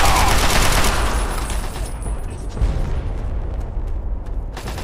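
Dense, loud gunfire in Fallout 3 rolls on continuously, with overlapping shots and booms forming a sustained fusillade rather than distinct single reports.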